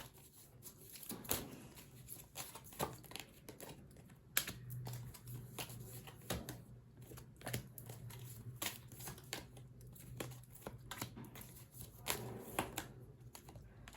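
Tarot cards being shuffled and drawn during a reading: faint, close papery clicks, taps and crinkles come in irregular clusters against a quiet room.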